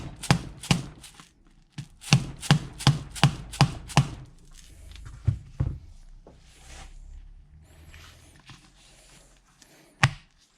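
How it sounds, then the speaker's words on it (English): A Volkswagen Golf 2.0 TDI driveshaft end tapped to seat it, a quick series of sharp metallic knocks in two bursts, then quieter handling noises and one final knock. "we'll try lightly tapping the end of the shaft to have it reassemble"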